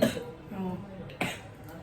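A single sharp cough from a child recovering from a recent cold and fever, near the end, preceded by murmured voice sounds, close and fairly quiet.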